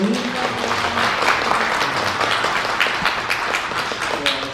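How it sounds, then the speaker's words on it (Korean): Guests at a literary society's publication ceremony and new writers' award event applaud, a steady wash of many hands clapping together with faint voices mixed in beneath. "이분들에서 박수 한번 보내주시면 안 될까요?"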